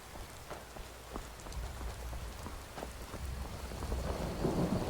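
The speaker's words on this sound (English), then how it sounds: "Rain." Rain and thunder in the video game Skyrim: a steady wash of rainfall with a low continuous thunder rumble that swells slightly toward the end, with no voices.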